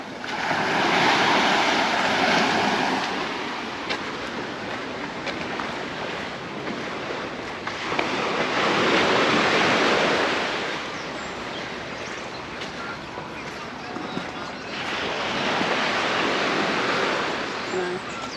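Sea waves wash onto the beach at Cala Vinyes, Mallorca, in three broad, loud surges that swell and fade with quieter gaps between, under steady wind rumble on the microphone and with no voices.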